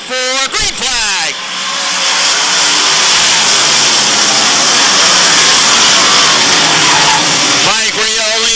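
Race cars roar off together on a short track, engines rising from a low rumble to a loud, sustained high-pitched wail that fills the field, with a commentator's voice heard briefly at the start and end.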